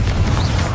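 A Confringo blasting spell explodes in Hogwarts Legacy, a brief, loud, low rumbling boom that fills the whole moment.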